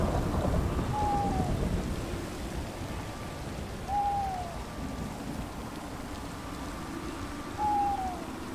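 Rain hisses steadily through a Minecraft thunderstorm, with low rumbling swells and a few brief tonal calls recurring about every three seconds, no voices.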